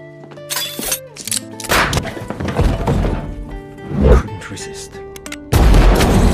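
A chaotic burst of loud gunshots and heavy thuds crackles in quick succession, ending in a sustained roar of fire.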